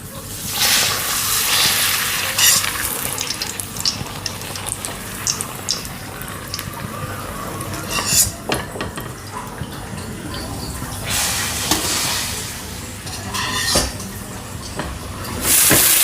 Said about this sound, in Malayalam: പപ്പടം ആദ്യം കാച്ചിട്ടാ.